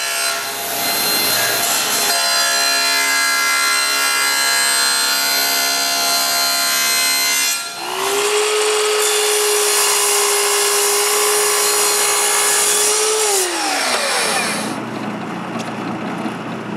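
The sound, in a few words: cutting wood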